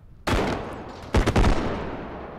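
Gunfire in a realistic first-person bodycam-style shooter game: a loud shot bursts out near the start and rings off, then a quick cluster of several close, heavy shots follows about a second later, each leaving a long decaying tail.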